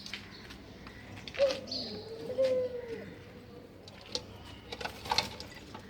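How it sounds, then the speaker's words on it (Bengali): A few soft dove coos sound at moderate distance in the early morning, with faint bird chirps and light ticking noises over a quiet background. "সকালবেলা ঘুঘুর ডাকগুলি খুব ভালো লাগে।"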